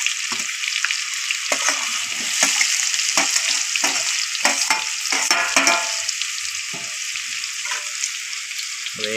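Chopped onion sizzling in hot oil in a pan with ginger and chilli for raw banana curry, a loud continuous crackle broken by repeated scraping stirs of a spoon.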